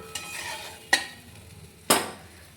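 Fish goes into a pan with a little water and is stirred while cooking, with three distinct scraping stirs over a faint steady sizzle, close by and without talk.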